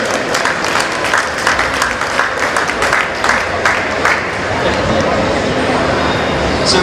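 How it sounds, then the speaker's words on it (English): An audience at a talk with a state senator and representative breaks into loud, sustained applause, dense clapping and some crowd murmur holding steady throughout. "So maybe a very quiet round of applause for them from this audience."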